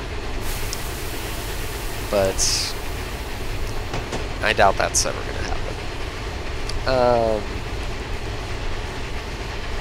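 Train running on rails in Train Simulator, with steady clattering rolling noise and a few sharp squeal-like tones and clicks over it, while someone talks over the sound.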